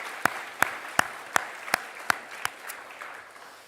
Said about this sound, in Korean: 우리 모두를 향하여 우리 큰 박수 한번 드립시다